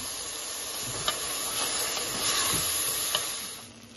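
Rice is stirred into a hot pan with cumin seeds and green chili, making a steady close hiss and sizzle punctuated by a few light spoon clicks. No voices are heard.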